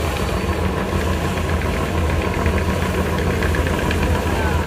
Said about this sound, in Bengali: ঢাকা চাঁদপুর ঢাকা রুটের লঞ্চ।